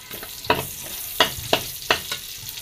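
Onions sauté in a pan for mung bean soup, a low sizzle punctuated by four or five crisp scraping knocks of a spatula at irregular intervals.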